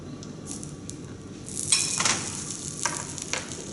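Butter with a little olive oil melting in a pan, a soft sizzle that rises midway with some brief metallic scraping and clinks, with no talk.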